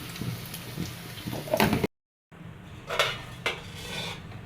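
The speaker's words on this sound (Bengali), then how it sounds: "এবার ডিমগুলো নামায় নিব।" Fried eggs being lifted out of a pan, with utensil scrapes and dish clatter in a few short bursts, then a brief silent gap before more metal clinks and a sharp scrape.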